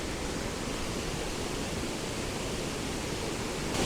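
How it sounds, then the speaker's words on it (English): Beezley Falls on the Ingleton Waterfall Trail pours in a steady, loud broadband roar of rushing water, constant and close with no pauses throughout. "Here we have waterfall number 4,"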